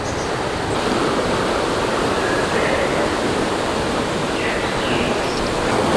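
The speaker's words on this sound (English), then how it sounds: "this is where a couple of different creeks come into a junction, join together and flow on." Rainforest creeks meeting at a junction and flowing on together, a steady broadband rush of running water that stays continuous and fairly loud throughout, with no voices over it.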